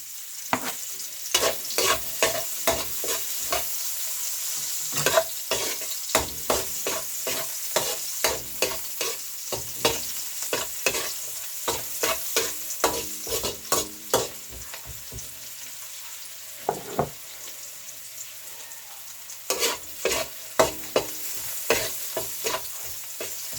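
Onion and garlic saute in a hot pan for a long stretch, with a crackling sizzle broken by frequent sharp scrapes and clatters of stirring. Loud and close, with no talk.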